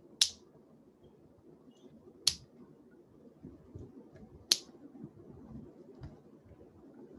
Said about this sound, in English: And when I snap my fingers,